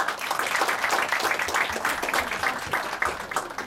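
An audience applauds after a math-themed play and dance performance, producing a steady, dense wash of clapping that continues evenly throughout without any talking.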